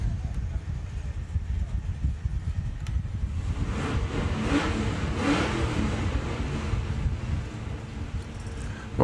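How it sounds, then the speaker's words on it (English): A hot rod at a drag racing event accelerates hard through its gears, a loud sustained engine roar with a shifting note, steady across the run and mixed with wind noise. "You just hear the engine note change, or the gear change, a little bit lower than normal."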